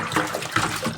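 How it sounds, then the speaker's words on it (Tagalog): Water runs and splashes over kangkong (water spinach) as it is washed, a close, steady gushing with uneven swishes from the leaves. "Hugasan pa natin ulit ang ating kangkong."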